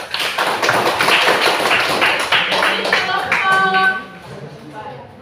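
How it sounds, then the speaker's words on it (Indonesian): Junior high school students in a classroom clap for a presenting group, a dense burst of applause lasting about four seconds that thins out as a voice speaks over the fading end. "Berikan tepuk tangan buat kelompok 3."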